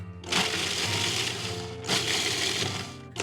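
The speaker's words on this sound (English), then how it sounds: "just blitz that up until your cookies go into fine crumbs" A food processor whirs loudly, crunching and grinding cookies into fine crumbs in two continuous bursts with a brief pause between, close up.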